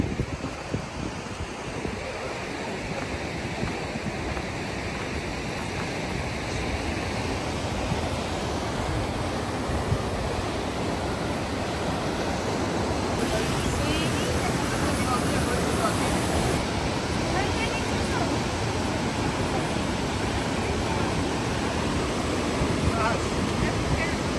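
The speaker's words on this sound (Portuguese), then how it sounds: "Estamos chegando na cachoeirinha" Small waterfall in Patagonia, a steady, full rushing roar of falling water heard close and loud throughout, mixed with outdoor wind buffeting the microphone.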